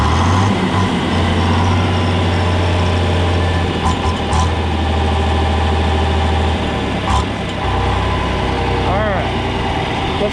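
A John Deere 4010 tractor engine runs at a steady low idle close by, with faint clanks and light background noise over the drone.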